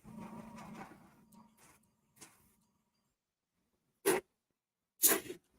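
A Harbor Freight airbrush sprays plain air with no paint loaded, giving two short, sharp hissing bursts close by after a stretch of faint low background sound.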